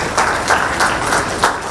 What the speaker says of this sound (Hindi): जोरदार तालियां स्वागत स्वरूप जरूर हो।